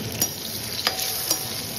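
Potatoes go into a hot frying pan of oil with garlic and ginger for a Bengali fish curry, giving a steady close sizzle broken by a few sharp taps and stirring clicks.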